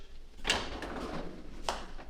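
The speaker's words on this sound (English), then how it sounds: "Drawer that converts." A refrigerator's convertible drawer slides and bumps shut in a new house kitchen, two short knocks about a second apart with a faint rolling slide between, close and fairly quiet.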